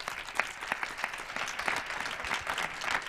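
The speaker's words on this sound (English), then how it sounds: "Let's welcome her with an applause on the stage." Audience applause welcomes Katrina onto the stage at the opening of a migraine innovation challenge and hackathon, moderate clapping from a modest crowd that keeps up a fairly even patter throughout.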